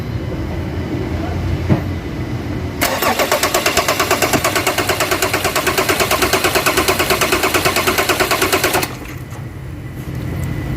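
Ford Ranger common rail diesel being bled, cranking hard with a fast, even starter chatter for about six seconds before stopping, loud and close, with an engine idling faintly before and after.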